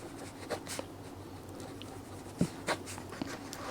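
A pen writing on paper while working a class 10 physics numerical, soft scratchy strokes in short bursts with a few taps, faint and close in a quiet room.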